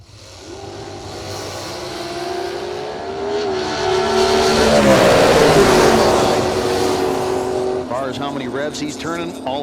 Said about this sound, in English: a Dodge-based NASCAR motor